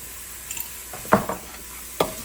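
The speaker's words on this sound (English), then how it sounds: "And then to that, I'm going to add a chopped up onion." Chopped onion, about half a large one with salt, hits melted butter in a pan and sizzles briefly, with a few short stirring scrapes and clacks punctuating the quiet frying.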